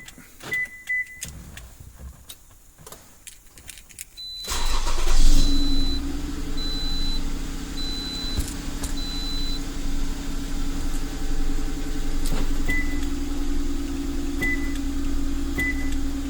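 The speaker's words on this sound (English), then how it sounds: "you can always start the vehicle with 3-lock from the OEM remote" A 2006–2010 Toyota RAV4 starting by remote, with quiet clicks and chimes, then the engine catching with a loud surge that settles into a steady close idle, plus a few beeps.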